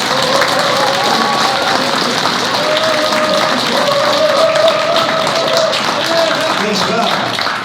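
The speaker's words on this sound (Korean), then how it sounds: "우선 박수부터 드립니다" A crowd applauds steadily for several seconds, dense continuous clapping with some voices mixed in.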